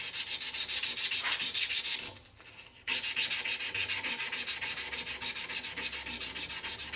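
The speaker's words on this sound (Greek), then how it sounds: "θα αρχίσω να γυαλοχαρτάρω παράλληλα με τα νερά" Sandpaper pressed by hand against a spinning wooden pen blank on a wood lathe gives a close, steady rhythmic rasping hiss, broken by a brief pause before resuming.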